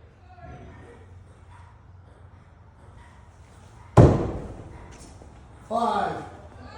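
A hatchet is thrown at a wooden target during a 2023 WATL hatchet qualification at Anvil Axe Co. in Neosho, Missouri, landing with one sharp, loud thud, followed shortly by a voice over faint background murmur.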